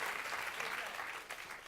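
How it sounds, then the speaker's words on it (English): Audience applause at a conference event, a dense and fairly faint wash of clapping that fills the whole moment without pauses. "a round of applause for Jack"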